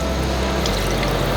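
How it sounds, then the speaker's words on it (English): Water pours into a pressure cooker holding bones, a close, continuous rushing splash that stays loud and steady for its whole short length. "we'll fill it up with water"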